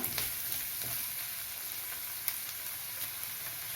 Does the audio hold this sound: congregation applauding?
no